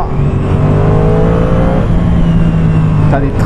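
A Ducati Streetfighter V2 motorcycle pulls hard in third gear, its engine a loud, steady, rising drone with a climbing whine, while a rider talks over it.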